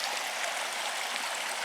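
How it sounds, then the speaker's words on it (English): A creek flows beside the Whittleton Arch hiking trail in Kentucky's Red River Gorge early in the morning, a steady close hiss of rushing water with no other sounds. "you're with this creek for most of the trail"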